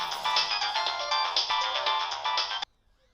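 A mobile phone ringtone plays a bright, steady electronic melody at moderate loudness for a few seconds, then cuts off abruptly into near silence.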